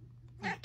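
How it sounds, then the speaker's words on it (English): A single short meow from a nearby cat over a low electrical hum, with a brief spoken word around it. "so you might hear her meowing right now."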